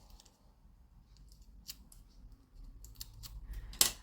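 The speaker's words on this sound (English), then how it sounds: "we need to peel off the backing of our double-sided tape on both sides" Backing being peeled off double-sided tape during papercraft card assembly: quiet, brief crackling rips and sticky tearing sounds, growing denser and louder near the end over a faint background.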